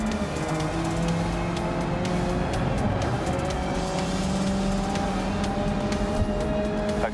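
A race car in GRID Legends, played in VR, drives with a loud sustained engine whine that shifts pitch through gear changes, steady and close throughout with no speech.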